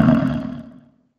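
A recorded roar attributed to the Eucentrosaurus dinosaur, a single loud, deep, rasping bellow that starts strong and fades away over about a second, heard alone.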